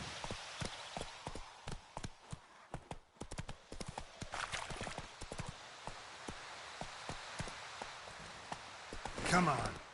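Roach the horse gallops in The Witcher 3, rapid rhythmic hoofbeats pounding steadily up close, with a faint whinny-like sound near the end.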